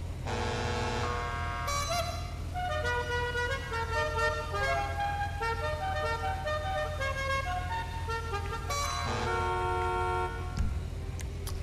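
A car horn is honked repeatedly in a GTA 5 tuning shop in a video game. The toots come in short, loud, musical bursts, close and over a low hum.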